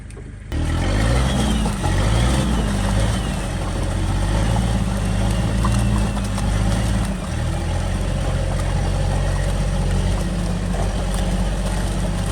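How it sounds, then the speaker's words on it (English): A Sherp amphibious vehicle climbs out of thick muskeg while towing trailers. Its engine holds a loud, steady, labouring drone with a shifting low rumble that swells and dips once partway through. "The Sherp climbed right out."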